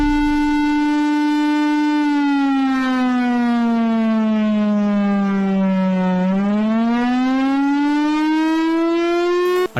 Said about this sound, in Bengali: এটা ভারতীয় সাইরেন